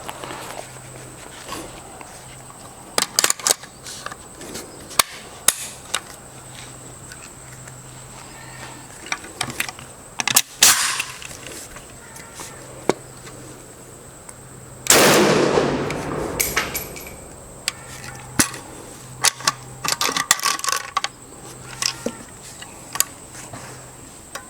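A 1994 Ruger Mini-30 rifle fires outdoors in scattered sharp cracks, several isolated shots spread through the clip with one louder, longer burst in the middle, amid quiet ambient noise.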